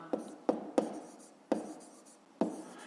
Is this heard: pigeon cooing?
no